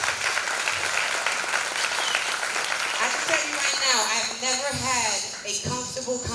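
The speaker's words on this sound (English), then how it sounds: "Yes, please, a round of applause." Audience applause for uniformed officers at a police community dialogue event in Melbourne, steady clapping across the room that carries on while a voice begins speaking over it toward the end.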